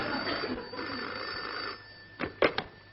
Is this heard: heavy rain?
no